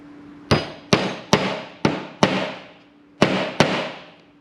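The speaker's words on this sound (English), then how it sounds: "I need to whack a nail in the centre there" A hammer drives a nail into wood in a workshop, seven sharp ringing strikes in an irregular rhythm, loud and close, each blow decaying quickly over a low steady hum.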